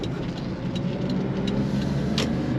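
A Daihatsu HiJet Deck Van kei truck with a 3-speed automatic drives along, its steady mid-pitched engine hum and road rumble heard from inside the cab, with no talk.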